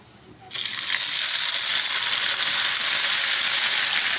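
Chopped tomatoes hit hot oil with a sudden burst of sizzling after a moment of quiet, settling into a loud, continuous crackling hiss heard close up.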